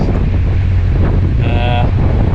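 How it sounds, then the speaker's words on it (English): Wind buffets the microphone with a constant low rumble along the Middlewich branch canal, and a brief tonal whistle rises out of the roar midway. "although it is windy and it's known for wind"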